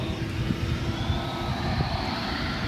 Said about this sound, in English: Looks like we're just in time to see an MD-11.